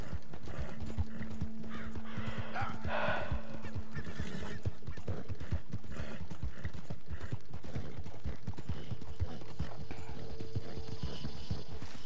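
Horse hooves clip-clopping steadily in the video game Red Dead Redemption 2, a continuous rhythmic gait under a dense game soundscape with a faint whinny.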